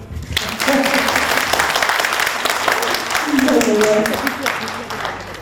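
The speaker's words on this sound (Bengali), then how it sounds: "রুমদির জন্য একটা তালি।" An audience at a Bengali stage play by Badal Sircar claps for a cast member in a sustained, dense round of applause lasting several seconds, with voices calling out over it.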